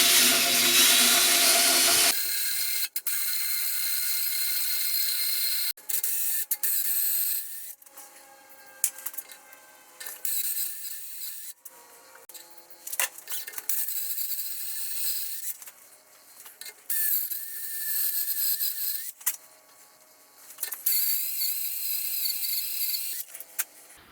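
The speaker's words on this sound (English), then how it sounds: "we're going to through drill it 5/8 this way, and then we're going to come back and ream it." Metal scraping and grinding sounds on a steering box upgrade for a 4x4 Pontiac Safari wagon, where a drilled 5/8 hole is reamed for a steering ball joint, come in repeated rough bursts separated by short pauses.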